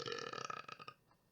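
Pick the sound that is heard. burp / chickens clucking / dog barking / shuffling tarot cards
burp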